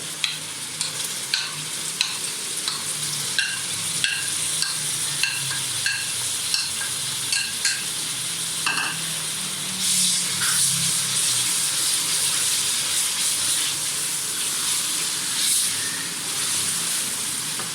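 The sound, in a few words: frying tomatoes and spices in a pan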